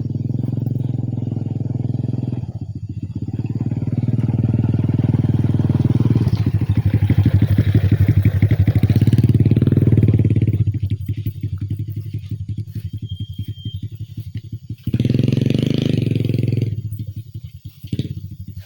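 A motorcycle engine used for oil palm harvesting on hilly ground runs nearby, idling then revving louder for several seconds before easing back, with rattling and a brief rev again near the end.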